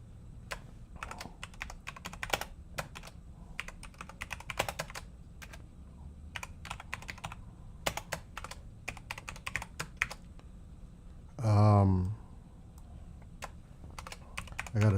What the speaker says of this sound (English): I gotta type it in